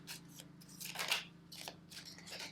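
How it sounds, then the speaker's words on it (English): Game cards for the board game Plantopia are shuffled in a few quick riffling, crisp bursts over a steady low hum, with no talking. "let me shuffle these cards up"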